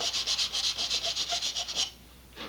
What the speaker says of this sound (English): I'm just going to run the sandpaper over my rounded edges